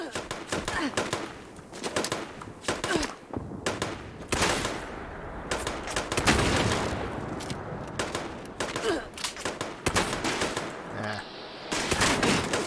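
Rapid bursts of automatic gunfire in the video game Fallout 76 crackle repeatedly in quick volleys, fairly loud, with brief gaps between strings of shots.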